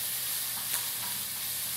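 Garlic and carrots sizzle in a pan as they caramelize, a soft, even hiss with a brief stirring scrape partway through and no voices.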